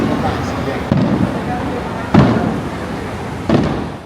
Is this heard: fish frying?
no